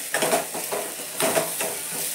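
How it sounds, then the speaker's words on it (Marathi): Sliced onion fries in a pan and is stirred, so a close sizzling hiss is broken by a few quick scraping strokes of a spatula against the metal. "हे जेवढं हलवल तेवढं एकसारखा कांदा भाजला जातो"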